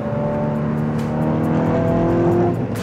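A BMW 1 Series fitted with a swapped e92 M3 engine drives ahead of a following car, its loud, steady engine note droning with a rich, even tone and a slight rise in pitch near the end. No one speaks.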